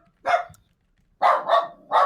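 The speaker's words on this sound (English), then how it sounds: "That's my dog Milo." A pet dog barks in short, loud bursts close by: one bark, a pause of about a second, then three quick barks in a row, with no talking.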